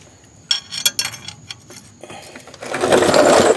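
A ratchet with an extension clicks sharply and irregularly while loosening the 17 mm oil drain plug on a 2010 Mazda 3 2.0-liter, close and crisp, then gives way to a steadier rushing noise in the last second.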